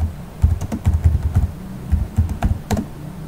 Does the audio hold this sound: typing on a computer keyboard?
yes